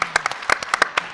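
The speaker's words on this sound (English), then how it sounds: "Guys, say claps" A few people at a leadership summit clap in a brief, sparse burst, with distinct separate claps heard close up for just over a second.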